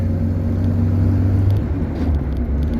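A car drives along a road toward the Dniester, its engine and tyres making a loud, steady low rumble heard close from inside the vehicle.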